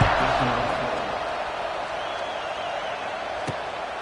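A stadium crowd in the College Football 26 video game roars at kickoff, a loud broad cheer that slowly fades, with a sharp thud near the end.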